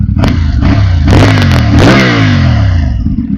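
CF Moto MT 450 adventure touring motorcycle revved in neutral, close and loud, with a couple of sharp throttle blips rising and falling in pitch over an idling parallel-twin burble.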